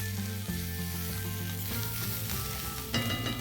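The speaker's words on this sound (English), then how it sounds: "I'm going to add now a teaspoon of garlic paste, a teaspoon of ginger paste. Saute this till the raw smell goes off." Garlic paste and ginger paste sizzling hard in a hot pan, a loud, close, continuous frying hiss with occasional stirring, no voices.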